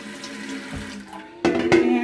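Tap water runs into dye pans set in a sink, a soft trickle that swells into a louder, fuller gush partway through.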